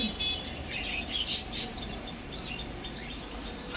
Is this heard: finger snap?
no